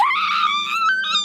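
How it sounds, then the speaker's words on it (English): A person lets out a loud, high-pitched sustained scream, close and shrill, wavering and breaking briefly before rising again. "I told you not to scream!"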